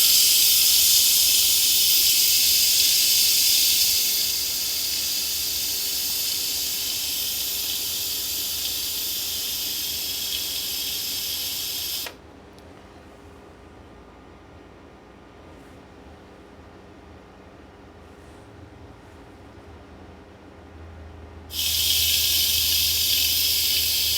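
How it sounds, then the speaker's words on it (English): An Instant Pot venting steam through its quick pressure release: a loud, continuous close hiss that drops to a quieter, duller rush for several seconds before surging back to full strength, with no talking. "it's going to let out some steam."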